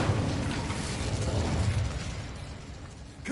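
An Incendio fire spell bursts in Hogwarts Legacy on PS5 as a loud, dense roaring whoosh of flame that holds steady for a few seconds, then fades slightly, with no voices.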